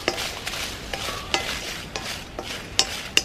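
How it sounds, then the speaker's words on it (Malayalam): Whole dried red chillies, ten to twenty of them, roasting in a dry pan, with a steady soft crackle and repeated scraping clicks as they are stirred, close up and without voices. "ഒരു 10-20 മുഴുവൻ മുളക് ഇത് നമ്മൾ വറുത്തെടുക്കുകയാണ്"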